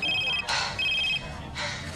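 A telephone rings with short repeated electronic trills separated by pauses, over a noisy background with bursts of sound.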